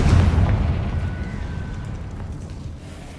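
Confringo fire spell blast in Hogwarts Legacy on PS5: a heavy, booming explosion hits at the start and rolls off into a long, fading low rumble.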